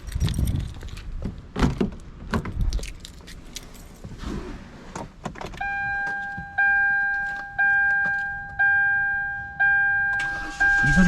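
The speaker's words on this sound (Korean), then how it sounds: "시동 한번 걸어보실래?" A Kia Morning with a drained battery: keys jangle and the door thuds, then a repeated weak starter cranking with a warning chime beeping steadily, several short failed start attempts in a row.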